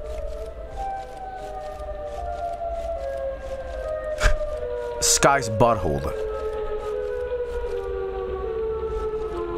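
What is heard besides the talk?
Siren Head siren wail in a horror video game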